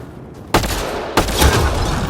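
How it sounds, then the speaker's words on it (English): Two sharp gunshots from a weapon fired at a Ket device in the sci-fi video game Mass Effect: Andromeda, each a loud crack with a short ringing tail, about half a second apart. "Shooting the device will destroy it."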